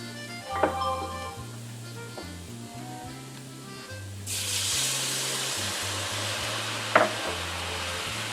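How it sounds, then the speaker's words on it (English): White cooking wine added to sizzling flour and oil: a sudden loud hissing burst of steam and sizzle kicks in midway, following quieter stirring and tapping over a faint background hum. "At this time, I'm going to add half a cup of some of this white cooking wine"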